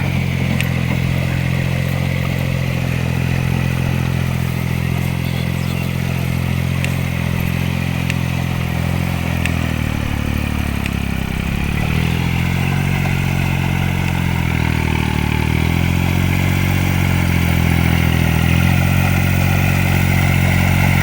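A Kubota L2002 tractor engine runs loud and steady while puddling a flooded rice field, with a continuous close diesel drone whose pitch briefly sags under load midway before recovering.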